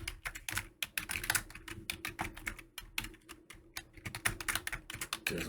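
Rapid, uneven typing on a computer keyboard, with dense clusters of close, crisp key clicks for several seconds and no voices.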